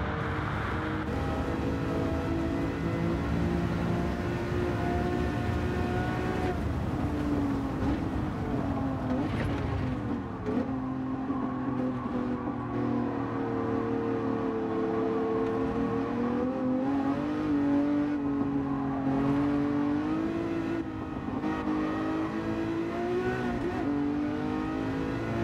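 A Lamborghini engine in Gran Turismo 7 on PS5 drones loudly and steadily for the whole stretch, its pitch climbing and dipping as the car revs through gears and corners, with no talking over it.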